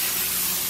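A short, close hiss of coconut oil cooking spray misted into a disposable pan, one continuous burst lasting under a second.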